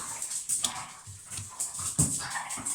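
A restless dog whimpers and whines over and over. Sharp, close yelps come at uneven intervals, with softer whining between them and no talking.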